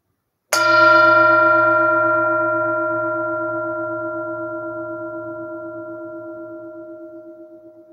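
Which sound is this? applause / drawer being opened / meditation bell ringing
meditation bell ringing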